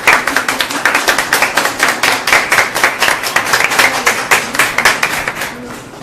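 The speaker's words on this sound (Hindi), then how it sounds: "प्लीज तालियों के साथ उनको जानते हैं।" An audience claps to welcome a speaker at an inspirational talk for mothers, a rhythmic run of hand claps, fairly close and loud, easing slightly toward the end.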